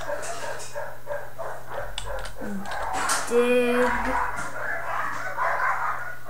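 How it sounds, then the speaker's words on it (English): Dogs fight and bark in a home behind someone talking, with scattered yips, whimpers and short barks mixed under the voices. "Sorry if you can hear my dogs fighting in the background."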